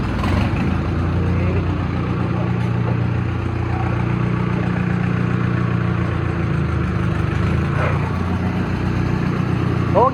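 A Mahindra Arjun Novo tractor fitted with a turbo runs steadily nearby, a loud, continuous low diesel rumble with a constant throb throughout and no break in the engine note.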